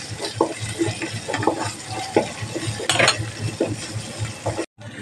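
A spatula scrapes and stirs ginger chili paste in a pan with a steady sizzle of frying, in rhythmic strokes with occasional light clinks.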